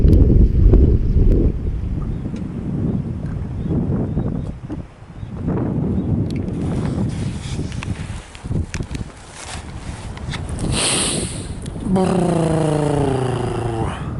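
Strong wind buffets the microphone on a fishing boat out on the water, a loud continuous roar with gusts rising and falling, and a rising tonal sweep near the end.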